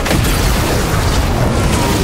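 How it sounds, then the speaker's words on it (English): Crystals detonating in a Fortnite explosion, a loud, sustained booming roar with heavy rumbling low end and crackling bursts throughout, steady and overwhelming. "Those crystals will detonate the zero point."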